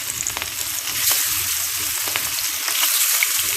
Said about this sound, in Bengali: বেশি ভাজবো না, হালকা করে ভাজবো।